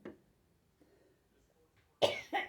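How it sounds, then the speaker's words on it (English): Two quick coughs at the end, close and fairly loud, follow a quiet stretch in a sewing room with only faint background sounds. "Wonder what's causing that cough now."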